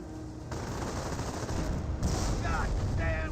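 A rifle squad trades gunfire in Company of Heroes: a steady, fairly faint rattle of distant shots and volleys goes on under a commentator's voice.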